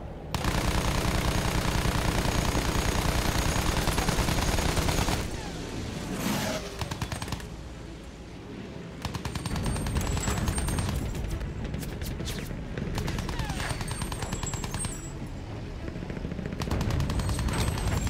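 Sustained machine-gun fire and heavy gunshots in a World War I battlefield video game, loud continuous bursts with booms and brief pauses, shooting down German forces.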